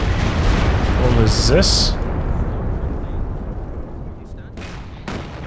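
Brummbär assault gun shelling team weapons in Company of Heroes 2, heavy booming explosions and rumbling blasts fading into a lingering roar, with a commentator talking over the battle.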